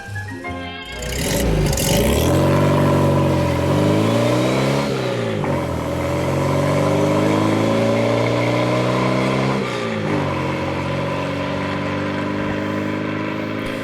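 A 1952 Porsche 356 with an early 1500 prototype type 527 engine revs up repeatedly, its loud, close note climbing and falling in several sweeping pulls before settling into a steady drone.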